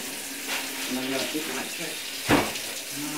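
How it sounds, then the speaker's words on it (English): Water running from a kitchen sink tap in a home, a soft continuous trickle and splash with a brief louder gush midway, heard under casual talk nearby. "Look how I drink water from the sink."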